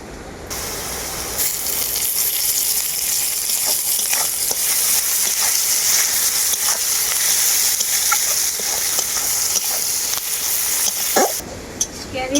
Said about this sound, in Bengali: এই পজিশনে আমি এর মধ্যে দিয়ে দেবো ক্যারিয়া পাতা